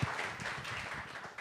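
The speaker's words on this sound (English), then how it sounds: "please give them a round of applause" A film festival audience applauding, a dense, steady wash of many hands clapping at moderate distance, brief and unbroken.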